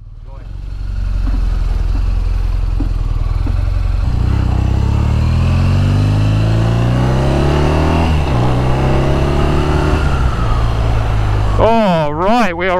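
A BMW R nineT custom motorcycle rides along a road in Los Angeles, its engine droning loud and close and rising through the gears with steady wind rush. A brief burst of sharper sound comes near the end.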